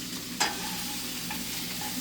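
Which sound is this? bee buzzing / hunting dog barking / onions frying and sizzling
onions frying and sizzling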